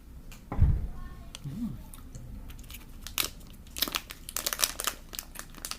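Crinkly snack packaging being torn open by hand, with crumpling and crisp crunching bursts clustered toward the end amid faint background noise.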